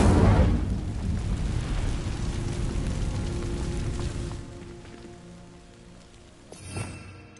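An Incendio fire spell cast on dry vines in Hogwarts Legacy: a loud whooshing burst of flame that roars and crackles, slowly dies away, then a brief flare near the end.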